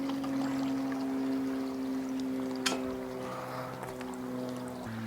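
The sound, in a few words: water poured into a camping stove pot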